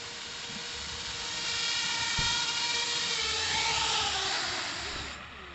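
A PEON 230 3D radio-controlled drone at an RC flying event in Saint-Paul flies in close to land, its high whining rotor buzz swelling loud through the middle and easing off as it settles.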